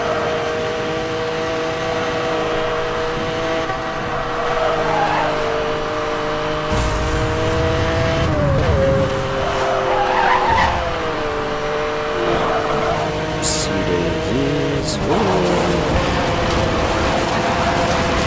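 Lamborghini Reventon and rival race cars in the video game Need for Speed: Hot Pursuit, engines droning and revving steadily with gear-change pitch shifts, brief tire squeals and skids, loud and continuous throughout.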